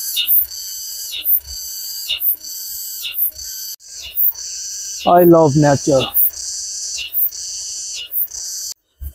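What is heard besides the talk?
insects in countryside fields near Shanghai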